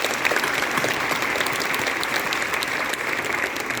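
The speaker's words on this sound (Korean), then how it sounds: "다시 한번 환영의 박수 올려드립니다" Welcoming applause from a congregation at the Jeju Mama Club prayer revival meeting, an even, sustained wash of clapping lasting the whole few seconds without a break.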